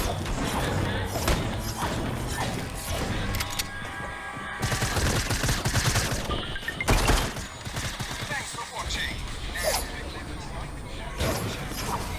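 Shotgun blasts and scattered gunfire from a shooting video game come in heavy bursts and thumps, loud and dense, with players talking excitedly over the action.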